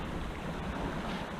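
Rough, choppy water slaps and washes around a kayak with a steady wind rush. The mix is broadband and constant, near and fairly quiet, with no voices.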